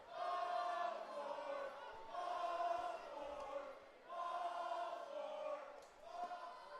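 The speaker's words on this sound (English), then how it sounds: "the crowd trying to cheer on for a ball 4" Crowd at an Intercounty Baseball League game between the Brantford Red Sox and London Majors cheering for ball four, rising in several swelling bursts of voices separated by brief lulls.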